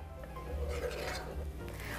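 A wooden spoon stirs a dough mixture in a pot as it heats toward a boil for cheese puffs, giving a soft steady scraping and faint sizzle close by.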